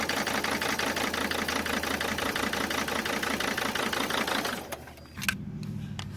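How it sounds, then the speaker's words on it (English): A cold car engine with the MAF sensor plugged in runs rough, a loud, steady pulsing chug with uneven stumbling and sputtering that drops off abruptly near the end before settling into a lower idle. "As soon as we step on the gas with the MAF plugged in, it starts doing this again."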